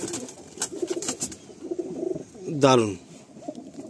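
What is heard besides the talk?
Kalshira pigeons cooing at a loft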